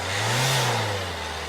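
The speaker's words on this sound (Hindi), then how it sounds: "सर 2000 आरपीएम तक गाड़ी को रेस करिएगा।" A used car's engine is revved to about 2000 RPM during a pre-purchase check for blow-by and oil splash, producing a loud, close, steady rising-then-settling drone with no talk.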